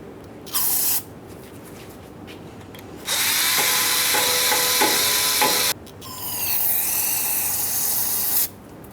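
Parts cleaner sprays in two long hissing blasts into the slider pin ports of a Ford F-150 rear brake caliper bracket, with a short squirt before them, close and loud with no talk.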